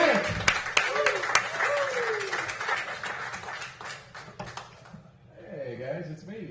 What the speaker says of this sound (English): Clap it up, clap it up, clap it up for Ben Frank